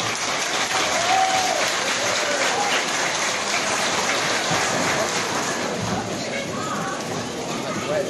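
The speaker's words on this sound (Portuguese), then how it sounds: "Uma salva de palmas para o senhor hoje." A crowd applauds at a Gaúcho Day celebration at the CTG Estância do Jarau, a sustained, dense patter of many hands clapping, steady and fairly loud, with voices faintly mixed in.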